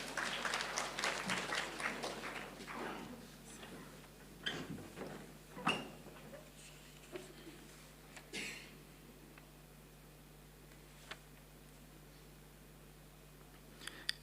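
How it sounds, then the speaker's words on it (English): Applause from a conference audience at an employers' conference, dense clapping at first that thins out into scattered claps and fades to quiet room noise, heard from a distance and fairly faint. "Please, let's give him another round of applause."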